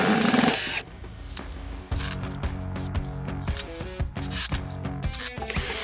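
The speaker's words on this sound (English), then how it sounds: "We drive a long screw into a piece of hard wood." A cordless screwdriver drives a long screw into a block of hardwood, a steady whirring motor with ratcheting, grinding clicks and brief pauses, close and fairly loud with no talk.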